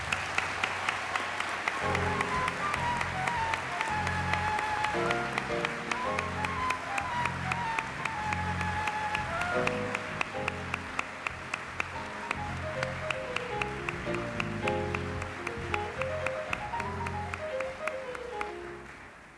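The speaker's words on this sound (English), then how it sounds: "Let's give a round of applause to Marcus Shute." Audience applause at an awards ceremony, steady sustained clapping throughout with music playing over it, fairly loud and continuous before tapering at the end.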